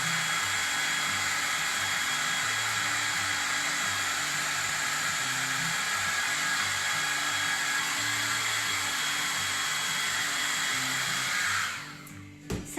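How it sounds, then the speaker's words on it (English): A hair dryer blows steadily and loudly, a constant broadband whoosh that cuts off near the end. "Sorry about the hairdryer so much."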